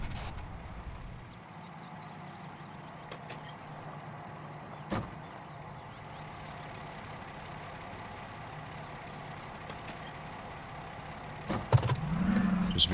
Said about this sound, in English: Scratch last, we're mounting up in the car.